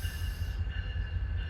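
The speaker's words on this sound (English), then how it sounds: "This looks like an FRA inspection train coming here" An FRA inspection train led by a CSX locomotive passes Glendale station in Ohio on the CSX Cincinnati Terminal Subdivision, with a loud steady rumble of wheels on rail, a high hiss and faint squeal close by.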